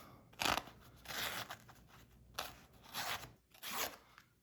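A Rockstead Shin knife slices through paper towel in several short, crisp cutting strokes at close range, with quiet pauses between each cut.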